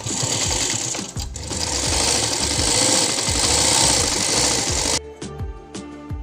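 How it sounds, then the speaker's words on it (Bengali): A sewing machine stitches baby frock fabric along a marked line, a close, loud rapid mechanical chatter running steadily for about five seconds before stopping abruptly, followed by a few faint clicks. "দাগ বরাবর সেলাইটা এবারে করব।"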